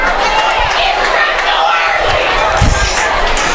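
Football fans at a high school game hollering in the stands, a distant crowd roar blended with commentators talking over it and a few thumps.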